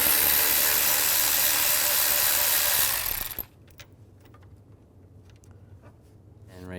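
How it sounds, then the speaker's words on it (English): A ratchet with a 10mm socket working a bolt loose on a 2013-2017 Nissan Sentra radiator cooling fan: a loud rushing noise for about three seconds, then a string of quick, faint ratchet clicks close by. "I'm going to use a 10mm socket,"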